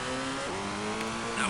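A rally car engine in the Colin McRae Rally video game drones steadily, its pitch dropping sharply during a handbrake turn before holding a low, even tone.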